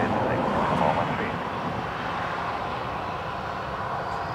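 An airliner rolls for takeoff on runway 10 right at Dublin Airport, a loud steady roar of jet engines heard from nearby that eases slightly after the first second, with no voices.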